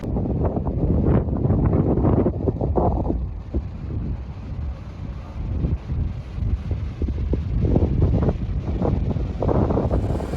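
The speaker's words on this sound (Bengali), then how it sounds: "দেখতে পাচ্ছ প্রচন্ড হাওয়া চলছে," Strong wind at Udaipur beach buffets the microphone with a loud, continuous low roar and rumbling gusts throughout, with no voices.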